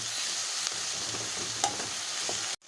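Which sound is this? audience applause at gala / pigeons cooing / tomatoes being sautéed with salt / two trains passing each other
tomatoes being sautéed with salt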